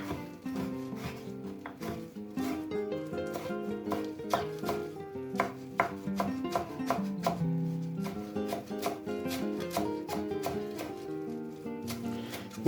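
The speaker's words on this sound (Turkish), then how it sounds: "Bunları da küçük doğruyoruz." Parsley being finely chopped with a knife on a board for a dry cacik meze, a steady run of quick, close, crisp blade taps with no talk.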